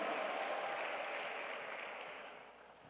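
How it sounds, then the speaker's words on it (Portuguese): A church congregation at a Baptist communion service claps in a dense, sustained wash that fades gradually toward the end, heard at some distance without talk. "Aplauda o Senhor."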